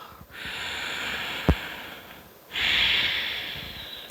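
A single sharp, forceful breath out through the nose during a supine yoga twist, one brief close burst set between two long stretches of soft, steady airy breathing.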